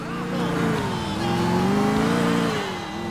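Car engine in Grand Theft Auto IV revving and accelerating steadily, a loud continuous drone with rising and falling pitch over about three seconds, with faint speech mixed in beneath the engine.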